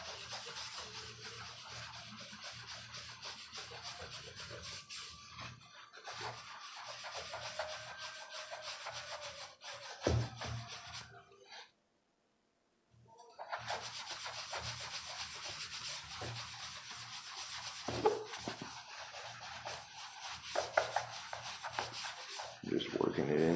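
Steady, close rubbing as conditioner is worked into a vintage leather hat sweatband, a soft continuous friction that continues for most of the stretch with one brief pause and light handling sounds.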